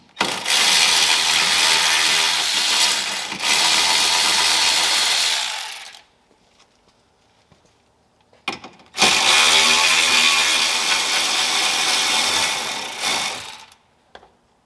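A power ratchet spins out the intercooler bracket bolts on a Ram 1500 pickup, giving two long, loud whirring runs close by with a quiet pause between them.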